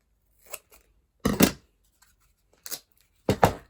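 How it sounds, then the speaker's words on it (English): Scissors snip through thick tape in several short, crisp cuts spaced apart, close and clear with silence between them. "I'm gonna cut my tape in half because this tape is thick"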